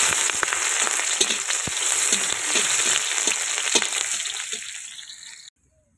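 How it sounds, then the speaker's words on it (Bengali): Chicken and onions fry in hot oil for khichuri, a busy close sizzle and crackle with scattered stirring clacks that runs steadily, then fades and cuts to silence near the end. "এবার আমাদের খিচুড়ির মাংসটা কষানো হবে ভালো করে। তেল দিয়ে দিলাম আমরা,"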